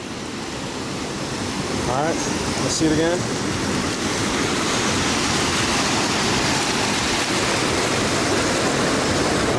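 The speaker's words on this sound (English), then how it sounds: "So let's do a little splash." Water splashes over a Feyachi WL25 weapon light in a torture test, a loud, steady rushing hiss throughout, with someone speaking briefly near the start.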